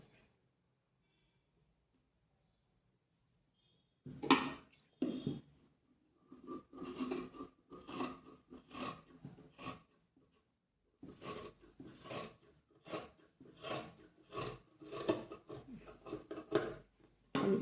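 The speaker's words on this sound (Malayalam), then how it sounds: "അപ്പോൾ 2 പീസ് നമുക്ക് 1 ഇഞ്ച് വീതിയിൽ കട്ട് ചെയ്തെടുക്കാം." Scissors snip through fabric to cut strips about an inch wide for a frock or kurti, sounding as a quiet series of close, crisp cutting strokes in short bursts after a few seconds of silence.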